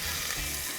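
Beef rump cap searing in a hot pan as it is turned during cooking with dark beer, a dense, steady close sizzle with no voices.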